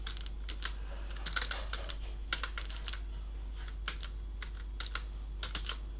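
Computer keyboard typing in bursts of quick, close keystrokes over a steady low hum, with short pauses between clusters, while a formula is entered in Excel VBA; no talk.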